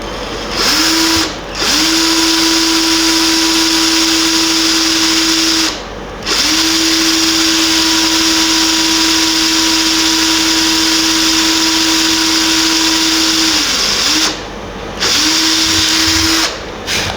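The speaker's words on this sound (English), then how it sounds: "so that's all of the holes drilled" An electric drill bores holes in a smashed guitar headstock being rebuilt, giving loud steady whines that run several seconds each, broken by short pauses and brief revving bursts, close up and without speech.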